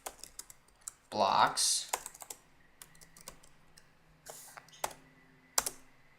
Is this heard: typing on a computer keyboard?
yes